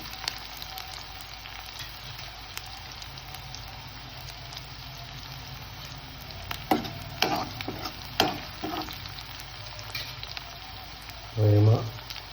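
Green chillies frying in a pan for a spicy Maharashtrian misal, a steady low sizzle with a few brief stirring scrapes and clatters near the end, no talking.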